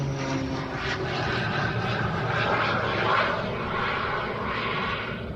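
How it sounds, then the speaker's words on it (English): A propeller aircraft with an added jet engine running at an air show, a loud, steady engine roar with a whining drone that holds close and unbroken throughout. "It's a propeller aircraft with a jet engine."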